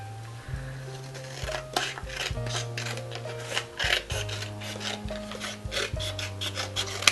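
Rasping and rubbing as a craft Christmas house piece is trimmed, close and fairly quiet, with short scraping strokes in an uneven rhythm over a steady low hum and occasional light clinks.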